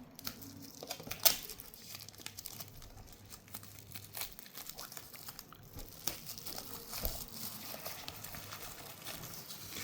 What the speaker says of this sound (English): let's try to get this plastic off